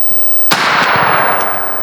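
A single loud shotgun blast rings out during a turkey hunt outdoors, a sharp crack followed by a long rolling echo that slowly fades.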